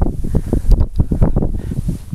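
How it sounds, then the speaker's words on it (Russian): Gusty wind buffets the microphone in low, rumbling bursts, loud and close, rising and falling irregularly. "у нас ветер, как и вчера."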